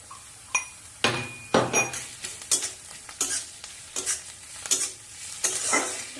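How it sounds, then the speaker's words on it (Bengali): Onion, ginger and garlic fry in a pan under repeated scraping stirs, with sharp clinks of a spatula on metal over a soft, continuous sizzle and no talk. "আদা রসুন পেঁয়াজ ভালো করে ভেজে নেব"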